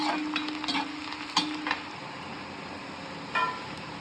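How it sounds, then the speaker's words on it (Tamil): Onions sizzle in hot oil during tempering for an arai keerai mash, a steady soft frying hiss with a few stirring scrapes and clinks, close and quiet, with no voices. "பாருங்கள், வெங்காயமெல்லாம் நல்லா பொரிஞ்சு வருது."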